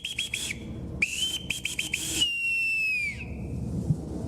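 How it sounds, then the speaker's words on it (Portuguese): Brazilian Navy boatswain's pipe sounds a shipboard call at an Antarctic base inauguration ceremony: short chopped trills come first, then a long held shrill note that slides down and stops. "a bordo são realizadas com toques de apito, uma tradição da Marinha"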